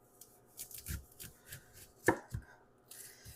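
Knife chopping a whole onion on a board, a run of irregular close thuds and crisp cuts, one sharper knock midway, with no other sound.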